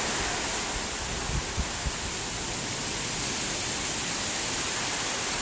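A heavy rainstorm on election day in Thailand roars as a dense, steady wash of falling rain and wind, loud and unbroken throughout with a few faint low thumps.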